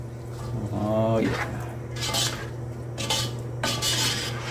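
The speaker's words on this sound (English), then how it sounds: "And now we'll give this a little stir." Crab chowder is stirred in a pot, with a spoon scraping and clinking against the metal and soft liquid sloshing, in a few close strokes over a steady kitchen hum.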